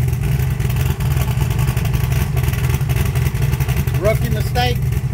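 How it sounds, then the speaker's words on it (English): A 1980 Trans Am engine runs steadily at idle with a constant low rumble and a busy ticking clatter on top from loose rocker arms and an exhaust leak, close and loud throughout. "Rocker arms are kind of loud because I just kind of threw all that back on there."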